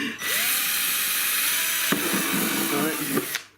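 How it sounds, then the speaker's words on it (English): A power drill bores a hole through a Traxxas X-Maxx RC car body shell, a steady close whine lasting a few seconds with a sharp crack near the end. "if you just drill a hole, for example, yeah, just drill another one"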